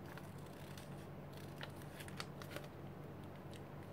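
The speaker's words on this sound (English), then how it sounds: "I'm using the curve of the scissors so it makes it easier." Quiet, crisp snipping of scissors through paper, a few short cuts scattered over steady low background noise, with no talking.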